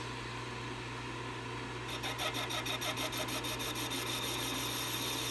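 A cutter on a machine cuts ring grooves into a home-cast piston. Faint, steady machine hum under a light rubbing noise turns into a rapid, even scraping chatter about halfway through and continues to the end.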